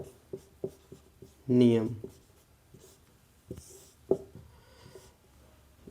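A pen scratches in short, quick strokes on paper or a board in a physics exam revision lesson, sharp ticking marks spaced out, with someone speaking briefly in between.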